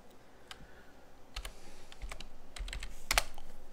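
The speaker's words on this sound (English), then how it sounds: "what am I keep typing wrong?" Typing on a computer keyboard, a quick irregular run of soft key clicks growing slightly louder, close and alone with faint room noise beneath.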